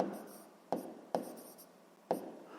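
A pen or pencil writes a math answer on paper with close, scratchy strokes, broken by a few sharper taps as new marks begin.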